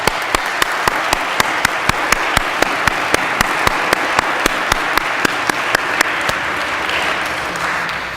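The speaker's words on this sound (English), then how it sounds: "Let's give them a round of applause" A large audience at a scout troop Eagle celebration applauds steadily, with dense continuous clapping punctuated by regular sharp claps, loud and close throughout.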